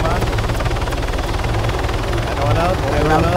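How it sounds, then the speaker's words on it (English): A helicopter's loud, close rotor thrum fills the whole stretch, with a rapid chopping pulse and engine roar, as a voice talks over it. "I'm looking at the boys run towards the chopper."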